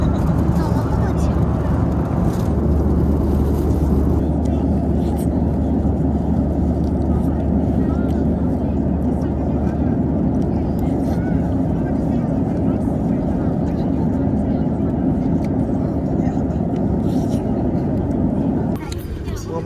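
Airplane cabin noise as the jet lands, a loud, steady low roar of engines and airflow that fills the whole stretch, with people talking faintly over it.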